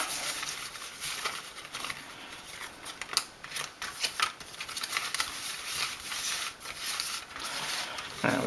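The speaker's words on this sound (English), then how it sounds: "we'll go ahead and shuffle our tiles" Hard Dice Tetris game tiles clatter and click continuously as they are slid and mixed around on a table, close and busy.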